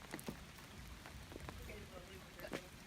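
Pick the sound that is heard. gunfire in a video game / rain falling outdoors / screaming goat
rain falling outdoors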